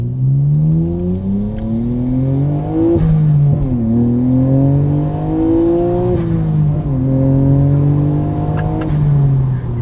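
Twin-turbo engine of a 1999 Nissan Skyline R34 GT-R pulling hard in third gear from inside the car, a loud, steady droning growl that climbs in pitch, dips at a shift, and climbs again with no speech.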